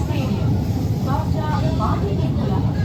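A steady rumble of a Kolkata Green Line metro train running on an elevated track over Subhas Sarobar, continuous and fairly loud, with people talking faintly underneath.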